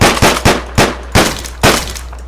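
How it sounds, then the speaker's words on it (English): Shotgun blasts in the video game Deadbolt, six loud, sharp booming shots spaced about half a second apart, each with a short decaying tail over a low steady hum. "You have a shotgun. You shoot him."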